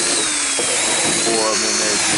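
A power drill drives screws into scrap wood while goat feeder troughs are being built. It whirs steadily and loudly, close by, throughout, and a person talks over the noise.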